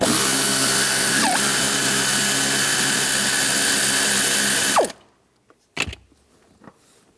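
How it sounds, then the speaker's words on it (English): A power wrench with a 15 mm socket spins a nut off a 2000-2006 Chevrolet Tahoe seat, a loud sustained whirring drone for nearly five seconds, then stopping, followed by a few quiet clicks and handling knocks. "Now the same, I'm going to use a 15 millimeter socket. Take this nut off."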